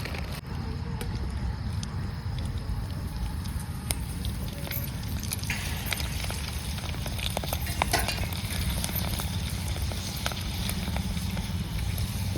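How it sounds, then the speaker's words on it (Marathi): Bombay duck fish frying in a pan over a fire outdoors, a steady dense crackling sizzle holding throughout with a few sharper pops, close and fairly loud. "तर बघा आता बॉबे तळून घ्यायच्यात पहिल्यांदी."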